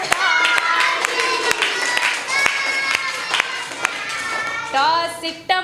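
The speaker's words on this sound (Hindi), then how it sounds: "बच्चों बजाओ ताली" Children clap in a classroom, a steady series of sharp claps in time with a woman singing a rhyme, the claps stopping briefly as her voice carries on.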